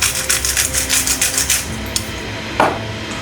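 Pepper being ground over eggs, heard as a quick series of close, dry rasping crunches from a hand grinder that stops, followed by a faint tap and a clink.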